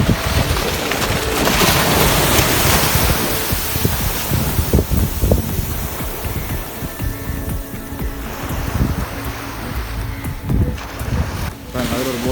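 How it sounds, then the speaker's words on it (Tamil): Sea waves crashing on a beach at a fishing area in a coastal market, a loud continuous surf roar with wind buffeting the microphone and people talking over it. "பாருங்க கடல் வந்து அப்படி அடிக்குதுன்னு சொல்லி."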